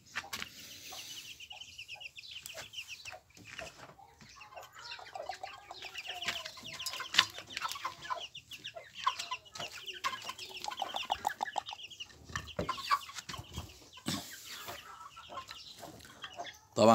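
Chickens clucking with a rooster among young birds on a small farm, quiet and scattered irregular clucks and calls close by over a low background, with occasional sharper knocks.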